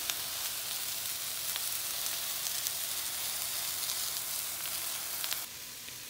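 Food sizzling in a cast iron pan while roasting, a steady bright hiss and crackle that runs evenly throughout, close and fairly quiet, with no talking.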